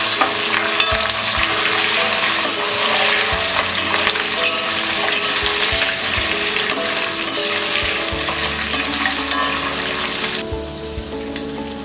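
Cashew nuts and roasted peanuts are tossed into raw mango rice in a hot pan, giving a continuous loud sizzle with scraping stir strokes throughout, easing off near the end.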